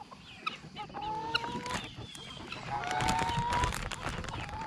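Backyard chickens cluck and squawk in a lively, overlapping chorus, with sharp calls over a busy background and a person speaking softly at times.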